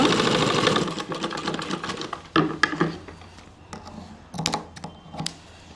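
A sewing machine stitches fabric in short bursts, its needle rattling quickly and stopping, starting again in several separate runs at close range.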